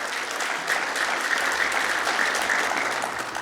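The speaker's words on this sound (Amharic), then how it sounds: "ስለዚህ በደንብ አጨብጭቡ ለእግዚአብሔር" A church congregation claps steadily and loudly at a worship service, a dense even wash of hand claps that holds throughout without a break.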